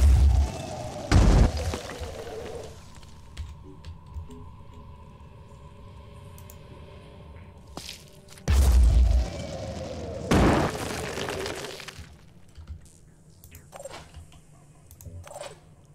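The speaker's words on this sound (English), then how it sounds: "it's time for even more explosions." Explosions from the video game Phoenix Point boom out in two heavy blasts several seconds apart, each followed by a long rumbling, whistling decay and lingering game ambience.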